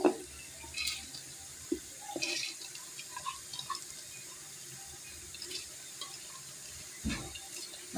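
Chana dal and other lentils being washed in water for a mixed dal, with soft sloshing, swirling and trickling water sounds and occasional sharper splashes and drips, steady and close with no talking.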